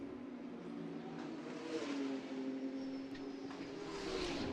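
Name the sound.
GT race car engine at Macau Grand Prix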